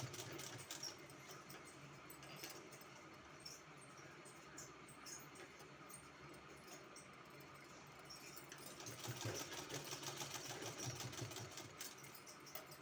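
Sewing machine stitching a decorative hem on a kurti, a quiet, steady mechanical whirr with a faint needle rattle, continuing throughout and growing slightly louder toward the end.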